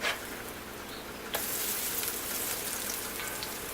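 Pancakes fry in an oiled skillet, a soft, even sizzling hiss that jumps a little louder partway through and then holds steady.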